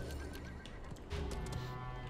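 A horse in the Realm Royale video game whinnies and its hooves clip-clop as it gallops, a short close burst of neighing over rhythmic hoofbeats.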